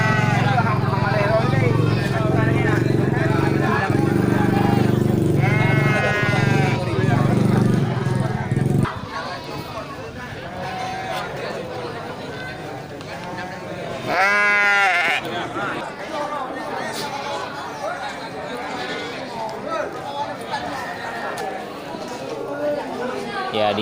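Goats at the Grogol livestock market bleat in short bursts over busy crowd chatter and someone talking, with a steady low hum in the first nine seconds and a loud, close bleat near fifteen seconds.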